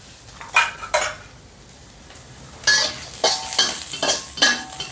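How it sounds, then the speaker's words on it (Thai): Metal utensil scraping and clanking in a pan as curry paste is stir-fried, with a soft sizzle underneath; close and moderately loud. "ใส่พริกแกงไปคั่วเล็กหน่อยครับ"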